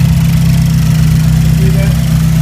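A Mazda 6 MPS fitted with a GTX3071 turbo idles steadily, its loud, even low engine hum droning close by without a break.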